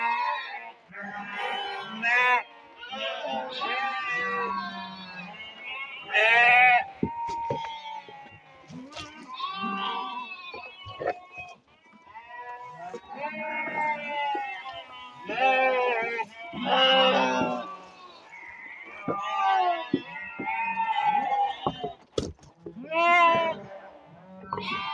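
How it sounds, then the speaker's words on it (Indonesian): Sheep bleat repeatedly while being fed a low-cost ration of palm solid and tofu dregs on a farm, with many overlapping calls from a hungry flock up close and someone talking over them. "Kita bisa lihat bukan domba-domba yang kelaparan sebenarnya"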